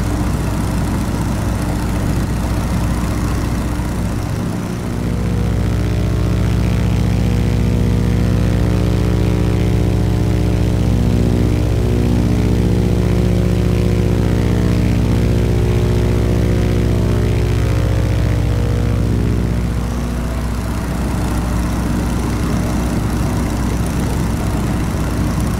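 A DC Designs PT17 Stearman biplane's radial engine and propeller in Microsoft Flight Simulator drones loud and continuous in flight. The steady rumble swells slightly through the middle and holds without talk.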